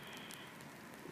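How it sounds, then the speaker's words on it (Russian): Rain falls steadily outdoors over a garden plot with a swing covered in black plastic sheeting, a dense, even hiss of drops with faint patters and no voices. "Дождик идет."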